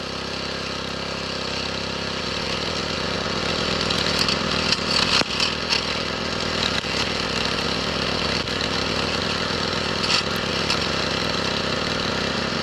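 A steady, buzzing small gas-engine lawn edger runs continuously at close range, with brief scraping bursts as the blade bites along a grass edge beside concrete.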